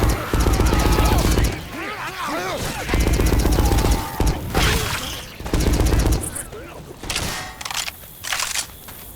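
Dense, loud automatic gunfire from Left 4 Dead 2 comes in repeated bursts, mixed with game chaos and shouted voices, with brief lulls between volleys.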